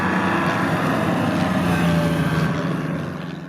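Cougar AVGP wheeled armoured vehicle driving, a steady loud engine drone and rumble with road noise that holds constant and then eases off slightly at the end.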